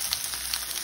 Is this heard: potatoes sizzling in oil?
yes